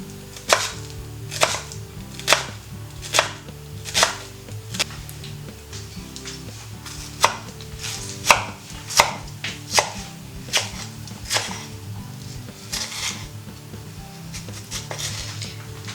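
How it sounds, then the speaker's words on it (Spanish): Knife chopping onion finely on a cutting board, a steady series of sharp, close taps with short pauses between bursts, no talking. "Picamos la cebolla menudita."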